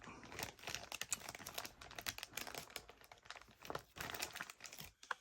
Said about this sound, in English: For the controller, let's just open it real quick. If the tape isn't all messed up.